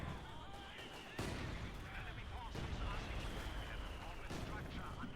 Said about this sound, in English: Artillery coming in, kind of pounding them in this section.